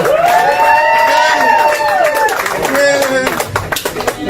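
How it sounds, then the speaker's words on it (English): Comedy club audience clapping and cheering, a full wash of applause with whoops beneath a comedian's voice speaking loudly over it, close and steady throughout. "Keep that round of applause going if you're happy."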